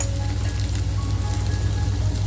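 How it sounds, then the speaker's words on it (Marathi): Onion, chili, ginger and garlic fry with homemade spicy masala in a pan for mutton tandoori smoky keema, giving a steady, close sizzle throughout with no voices. "आपला शलाका ऑल इन वन हा घरगुती मसाला टाकती आहे असा झणझणीत बनवते आहे सुद्धा आपल्याला आता छान फ्राय करून घ्यायचा आहे"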